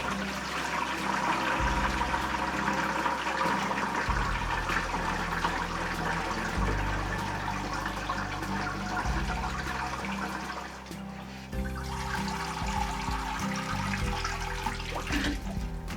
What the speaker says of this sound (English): I'm going to strain out most of the water this way. Just put a strainer in there into that bucket.